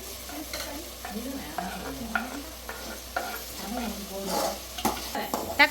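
Tomatoes stirred into frying onions in a pan for a Sinthamani country-chicken gravy, with a steady sizzle under repeated scraping spoon strokes and a faint voice-like murmur in the background.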